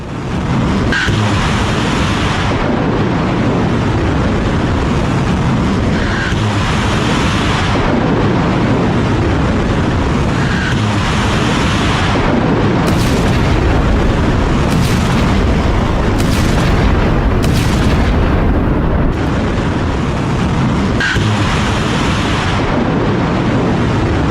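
Missiles roaring and explosions from a US military operation in Iran to rescue a pilot, heard as loud, continuous rumbling with repeated heavy booms and no speech.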